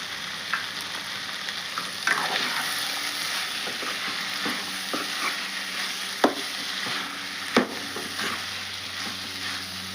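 Cabbage and chana dal curry frying with coriander powder added, a steady sizzle with occasional sharp clicks of stirring, close and without talk.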